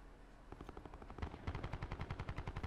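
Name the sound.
gunfire in the video game Call of Duty: Black Ops 4 Blackout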